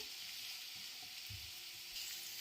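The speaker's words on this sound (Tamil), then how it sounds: "கொஞ்சம் மசாலா இது நல்லா வதக்கி விட்டுக்கலாம்" Masala sautéing in a pan for a chicken keema egg omelette, a steady, faint sizzle and fry with a few soft stirring scrapes, close by and without talk.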